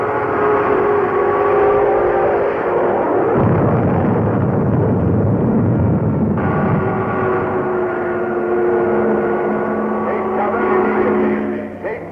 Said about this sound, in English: Eurasian rocket bombs are now over London.